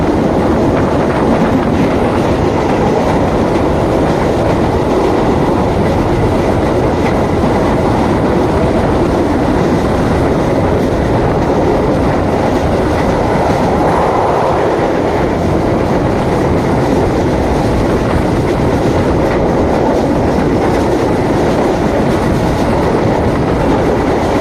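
A loud, continuous rumble of the Kertajaya passenger train rolling along the rails, heard from on board, with rhythmic clacking of wheels throughout and no talking.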